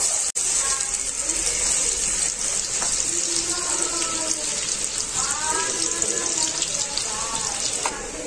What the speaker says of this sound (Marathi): तर आता इथे कांदा तळतोय।